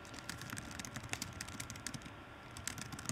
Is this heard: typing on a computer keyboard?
yes